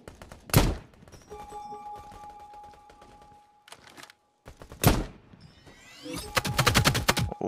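Sniper rifle gunfire in the video game Battle Prime: two sharp, loud single shots spaced several seconds apart, then a quick burst of rapid shots near the end, with quieter mechanical clicks and a faint tone in between.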